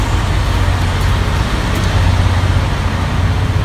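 Steady low rumble of idling trucks and road traffic at a busy Flying J truck stop in Modesto, California, continuous and fairly loud with no voices.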